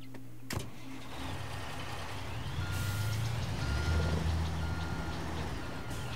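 Truck reversing beeper in Construction Simulator 22, a steady series of evenly spaced tones over a low idling engine rumble, fairly quiet and continuous throughout.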